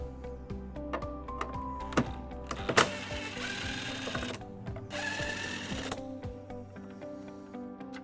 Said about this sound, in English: We're going to remove both of the bolts on here using a 10mm